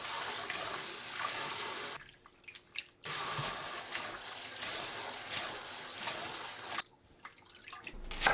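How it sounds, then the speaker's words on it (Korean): Soaked dried eggplant is rinsed in clean water with splashing and sloshing, faint and close, broken by two brief quiet pauses. "30분 불린 가지는 깨끗한 물로 두세 번 조물조물 씻어냅니다"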